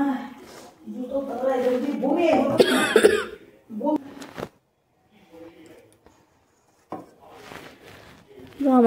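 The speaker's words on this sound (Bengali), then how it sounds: "আমার শাশুড়ি মায়ের প্রচুর কাশি, দেখতেই পাচ্ছেন বন্ধুরা।" An elderly woman, the mother-in-law, coughs several times in harsh, close bursts, mixed with stretches of her voice and short quiet gaps between fits.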